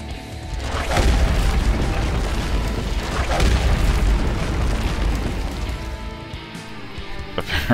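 In Marvel Heroes, a directed shot skill strikes a rock pile, setting off a run of heavy booms and crunching impacts that rumble on for several seconds, with a sharp crack near the end.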